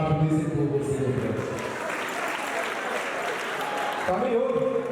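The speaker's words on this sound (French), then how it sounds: "Applaudissez pour vous, s'il vous plaît." A crowd at a civil wedding ceremony breaks into sustained applause lasting a few seconds, a dense wash of clapping, with a voice speaking just before and after.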